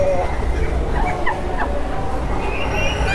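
A German chicken breed calls among other fowl at a poultry market in Ban Pong, Ratchaburi, its short clucking notes rising over a dense, steady crowd hum with voices in the background.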